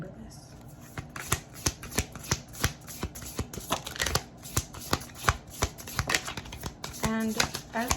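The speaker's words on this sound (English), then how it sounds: "as I pull an oracle card for you" A deck of oracle cards is riffled and shuffled in rapid, crisp flutters and snaps at close range, with a voice faintly present underneath.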